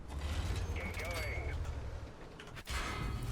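Tank tracks being repaired in the video game World of Tanks: a steady mechanical ratcheting and clanking over a loud low engine rumble, with a brief dropout near the end before the rumble resumes.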